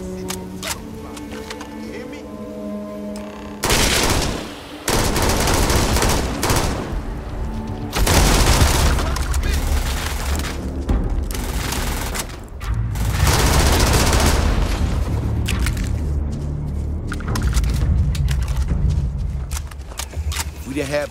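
Video game gunfire in sustained automatic bursts with heavy booms, separated by short quieter gaps, with people talking over it at times.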